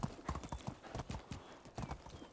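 In Medieval Dynasty, a horse's hooves beat out a brisk, even clip-clop close by, loud and continuous, with faint neighing tones threaded through.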